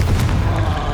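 A Confringo spell bursts in the Hogwarts Legacy video game: a loud, close, booming blast with heavy low rumble fills the brief moment.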